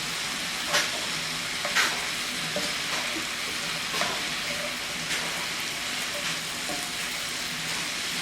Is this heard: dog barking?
no